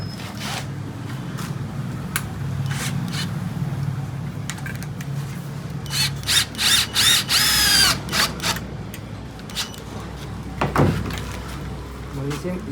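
A power driver whirs in short bursts, driving a one-inch screw into the threaded hole of an aluminium and wood mirror frame, with a final steady spin and clicks from handling between bursts.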